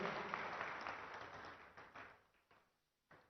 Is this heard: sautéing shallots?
no